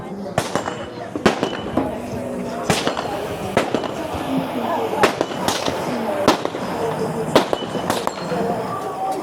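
Gunshots from pistols and rifles at a regional shooting competition stage with steel targets, cracking in a rapid uneven series of sharp reports, some close and some more distant, as a commentator talks over them.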